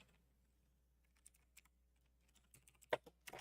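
Faint, sparse keyboard typing at a computer during game development work, isolated key taps at first, then a quicker cluster of louder clicks near the end, over quiet room hum.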